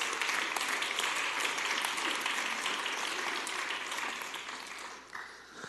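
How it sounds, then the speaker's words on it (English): Audience at a city council meeting gives a round of applause for an honoree called up front, dense steady clapping that tapers off toward the end, fairly faint in the room. "So, yeah, round of applause."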